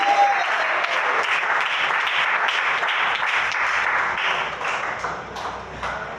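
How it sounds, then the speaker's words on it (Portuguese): A church congregation claps together in praise of Jesus during a worship service, a dense, steady wash of many hands that stays loud and even throughout. "A igreja glorifica e bate as palmas para Jesus"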